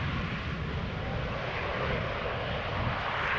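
Airliner landing at Schiphol Airport without thrust reversal, a steady broad engine roar and rush of air, moderately distant, with no voices.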